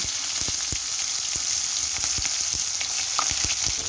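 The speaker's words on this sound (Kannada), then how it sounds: "ಈಗ ಈರುಳ್ಳಿ ಹಾಕೊಳ್ಳಿ" Onions frying in hot oil in a pan after a tempering of mustard seeds, lentils, cumin and fenugreek for a taro root curry, a steady close sizzle with scattered pops and crackles throughout.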